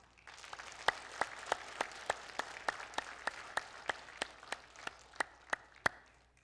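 A church congregation claps together during a Sunday worship service, a steady rhythmic beat of roughly two claps per second over a soft wash of scattered hands, with no talking.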